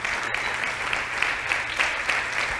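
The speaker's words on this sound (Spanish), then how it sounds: "Ese aplauso debe ser para el Señor." Church congregation applauding during a sermon, a steady wash of many hands clapping at moderate distance, continuous and even through the short stretch.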